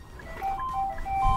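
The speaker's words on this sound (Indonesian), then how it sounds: "Ada mobil keluar masuk itu dari bunyinya." An electronic warning chime sounds as cars exit a garage at Nissan's headquarters in Japan, a soft melodic series of beeping tones repeating against low background noise.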